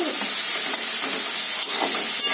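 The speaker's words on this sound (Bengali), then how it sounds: "পটল আলু দিয়ে ফোড়ন দিয়েছি।" Pointed gourd and potato pieces frying in a pan with tempering spices give a steady, close, broadband sizzle with faint crackles throughout, and no voices.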